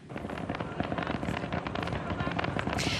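Fireworks at the Sambro wharf in southwestern Nova Scotia mark dumping day, the opening of lobster fishing season, with a dense, rapid run of crackles and pops over outdoor background noise.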